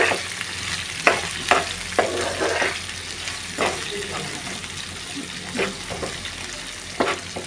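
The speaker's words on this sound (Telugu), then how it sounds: "ఇప్పుడు మనము ఇదంతా మిక్స్ చేసుకుందామండి మంచిగా నీట్గా మొత్తం కలిసేటట్టు మనము కలుపుకుందాము" Cabbage curry with onions being stirred in a pan, canteen style, giving steady frying sizzle with repeated scraping strokes of the spoon at close range, and no talk over it.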